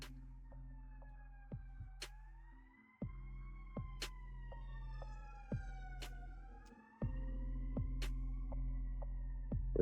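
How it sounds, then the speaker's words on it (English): Fire truck siren wailing as it passes on a street, rising and falling tones with low engine rumble and occasional sharp knocks, moderately distant and fairly faint. "That was a fire truck going the other direction."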